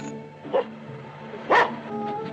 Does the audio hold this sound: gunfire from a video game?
no